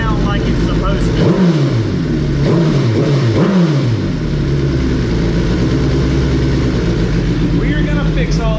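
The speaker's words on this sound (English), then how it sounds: "Here's how the bike idles up. Now, the idle never drops back down like it's supposed to." A Suzuki GSXR 1000R motorcycle fitted with a Yoshimura Alpha T exhaust idles loudly and close, blipped through several quick revs that rise and fall before settling into a high, steady idle that never drops back down.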